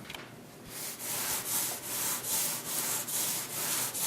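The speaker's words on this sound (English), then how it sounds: "Now we're sanding this. This is the final sanding here to get that surface all smoothed out" Rhythmic back-and-forth rasping of sandpaper rubbing on wood during final smoothing, close and steady, with about seven even strokes and no talking.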